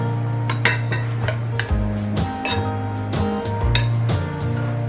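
A butter, egg and flour mixture being mashed together in a bowl, with utensils clinking and scraping against the bowl over a steady background hum.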